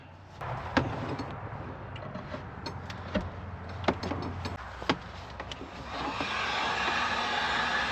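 An electric heater runs off a solar generator's inverter to thaw frozen water, giving a steady blowing hum that swells and brightens near the end, with a few sharp clicks and knocks over it.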